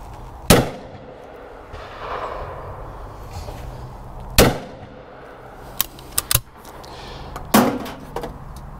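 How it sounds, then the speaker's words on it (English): Shotgun blasts from a Beretta Ultraleggero firing 32 gram fibre game cartridges outdoors, several sharp loud reports spaced a few seconds apart with short echoing decays and a couple of quick clacks between them. "let's put some 32 gram fibers through it, game cartridges, and let's just see how it gets on with that"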